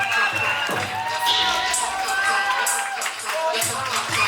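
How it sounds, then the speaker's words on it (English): Loud crowd at a vogue ball cheering, whooping and clapping, with shouted voices mixed throughout. "Give every bitch that walked out a round of applause"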